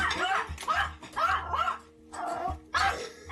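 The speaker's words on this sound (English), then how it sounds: "This dog was a nightmare. It could often be the first thing I would hear in the morning and the last thing at night." A neighbour's dog barking in a residential setting, several loud bursts of yapping barks in a rapid run, close and insistent, with short gaps between bouts.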